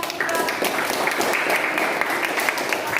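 A classroom of students claps for a classmate in a short, dense burst of applause that keeps an even level throughout.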